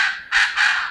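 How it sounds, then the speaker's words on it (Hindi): Koklass pheasant calling on a Himalayan mountain slope along the Madhmaheshwar trek in Uttarakhand, heard as a loud, harsh, raucous burst of two or three rough notes in quick succession, close and clear with no talk. "नीचे आप कोकलास फेजेंट की कॉल सुन पा रहे होंगे"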